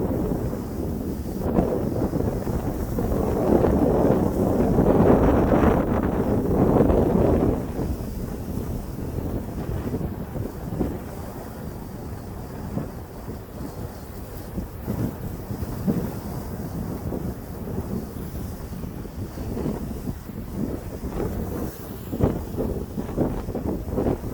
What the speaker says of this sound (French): Là, les vagues sont plus violentes.